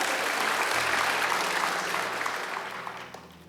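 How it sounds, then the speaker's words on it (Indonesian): A church congregation applauds in praise during a worship service, a broad steady wash of clapping that starts full and slowly tapers off, with no voices over it. "Tepuk tangan bagi Allah kita."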